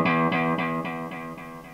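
An electric guitar with a coil-tapped neck humbucker, playing through two Victory Kraken amps with delay in both effects loops: one sustained chord followed by a string of fading delay repeats about every quarter second, clean and fairly quiet.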